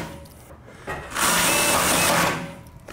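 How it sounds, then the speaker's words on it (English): Power screwdriver driving screws into wooden carport framing, a steady whirring burst of about a second, close and loud, ending as the screw seats. "toss a couple screws in here to hold it still"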